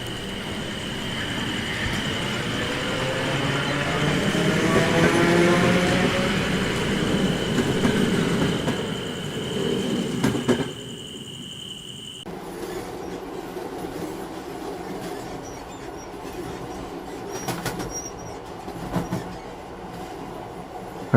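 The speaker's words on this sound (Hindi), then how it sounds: "और जैसे ही ट्रेन आती है," A train pulls in and runs along its track, a loud sustained rumble with clattering wheels and a high squealing tone that drops to a steadier, quieter rolling sound halfway through, with no voices.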